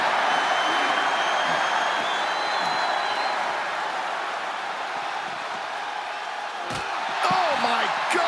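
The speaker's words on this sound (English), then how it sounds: "The sound of this crowd is deafening" A wrestling video game crowd roars in a steady, loud wash of cheering that holds throughout, with a few sharp thumps and impacts near the end.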